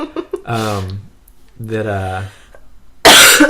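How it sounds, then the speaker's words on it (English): A cough bursts out loudly and close near the end, following a couple of stretches of people talking. "Every time I get going, you're coughing at me here"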